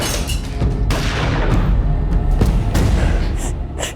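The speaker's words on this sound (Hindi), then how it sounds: "गोली चलने की आवाज आई।" A gunshot at a home doorbell incident, heard as sharp loud booming cracks over broad noisy rumbling, repeated across the stretch, no clear talk.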